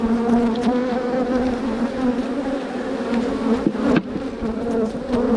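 A dense swarm of honeybees separated from their queen buzzes steadily and loudly close by, agitated and unbroken, with no voices.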